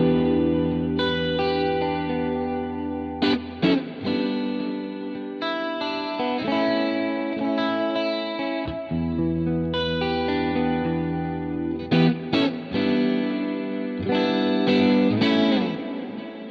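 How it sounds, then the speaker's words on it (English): Clean electric guitar tone through ambient wet reverb and delay with a boost, chords ringing out in long washy tails, repeated strums and swells sustaining loudly without any talk. "which is basically a ambient wet reverb delay version of this, the original clean sound."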